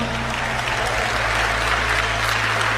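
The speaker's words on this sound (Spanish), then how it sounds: "denle un aplauso al Señor Jesucristo" A church congregation applauds during a Spanish-language sermon, a dense, steady wash of many hands clapping at full volume throughout, with no voices standing out.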